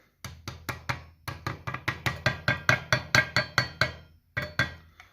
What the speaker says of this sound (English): I will then take the lid and hammer it on just a little bit.